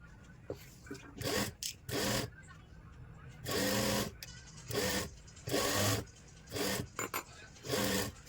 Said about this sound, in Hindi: इस तरीके से इसके ऊपर स्लीव्स को रखेंगे और यहाँ से पहले बराबर मिलाते हुए कच्ची सिलाई लगा लेंगे